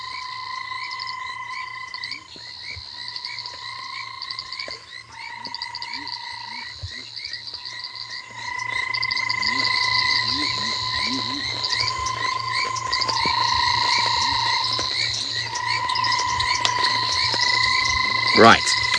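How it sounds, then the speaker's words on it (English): At sunrise on an African safari drive, a dense chorus of frogs keeps up continuous croaks and trills from several species, with insects and crickets buzzing steadily underneath and growing louder halfway through. "there is an absolute cacophony of frog sounds"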